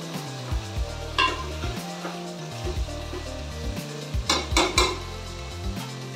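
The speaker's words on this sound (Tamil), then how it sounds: "நல்லா கிளறி விட்டு நல்லா வதங்கட்டும் தக்காளி" Tomatoes sautéing in a pan for a coconut milk crab curry, with steady sizzling and repeated spoon scrapes and clinks against the pan as they are stirred, close and without talk.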